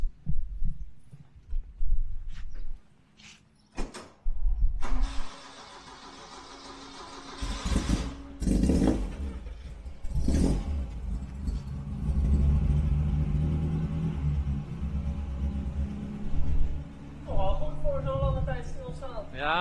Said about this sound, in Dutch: Koude start Fortunis.